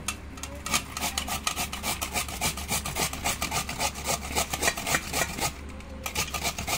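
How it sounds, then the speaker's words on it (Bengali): A carrot is rubbed across a grater for chicken momo filling, giving close, rhythmic rasping strokes repeated evenly one after another with no talking. "গাজরের মুখটা কেটে নিয়েছি, এবার ঘষে নিচ্ছি।"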